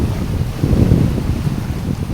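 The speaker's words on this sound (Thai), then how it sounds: "น้ำทะเล ช่วงนี้คลื่นสูงนะครับอันตรายนะครับ" High sea waves and wind at Suan Son beach in Rayong, a continuous broad roar of surf mixed with buffeting wind noise, steady and fairly loud with a swell in the middle and no talking.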